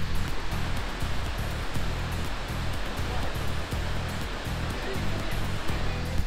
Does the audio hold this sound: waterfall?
yes